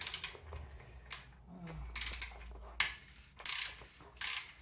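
Ratchet wrench with a 10mm socket working a bolt loose on a Jawa 350 motorcycle, giving several separate bursts of clicking ratchet strokes with quiet pauses between them, close by.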